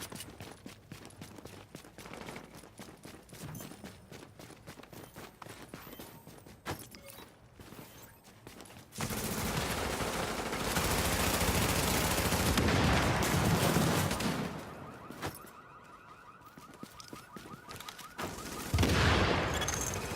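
Gunfire erupts around a contested fortification in the shooter game The Division, with rapid automatic bursts and single shots crackling at first, then heavier sustained firing and explosions swelling louder before easing back into scattered shots.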